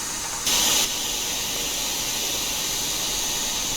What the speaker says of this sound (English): Safety valves going off.